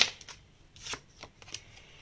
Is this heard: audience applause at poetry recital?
no